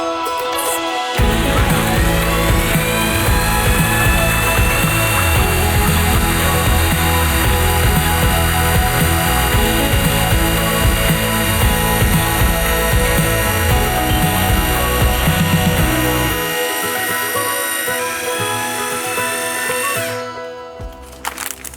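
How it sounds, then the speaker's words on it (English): Food processor whirring steadily as it blends pesto with oil drizzled in, a loud continuous motor drone running about fifteen seconds before cutting off, followed by quieter kitchen noise. "Last is the oil, but I'm gonna do that as I'm processing the pesto."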